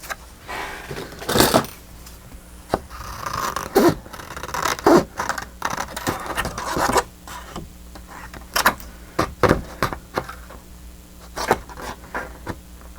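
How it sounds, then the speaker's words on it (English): Sharp scissors with a serrated edge snipping through digital printed paper for a spring journal, heard as a series of crisp, close cutting snips and scrapes spaced irregularly across the clip with light handling noise between them. "I love how sharp these scissors are, but they have a serrated edge on them"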